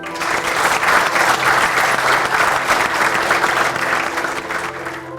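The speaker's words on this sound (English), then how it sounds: "As the applause ended" Audience applause fills the hall at the close of a CAG of India documentary presentation, a steady dense wash of clapping throughout, loud and near, with no speech over it.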